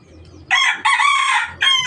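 Close, loud crow of a young mestizo labuyo cockerel: a short burst, then a drawn-out middle phrase and a rising final note, heard on its own.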